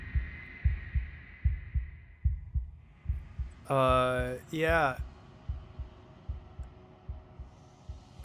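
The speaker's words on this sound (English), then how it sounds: "Oh, and her heartbeat's fading." Slowing heartbeat in the video game Slay the Princess, a close rhythmic thump-thump pulse that steadily spaces out, interrupted midway by a brief spoken word.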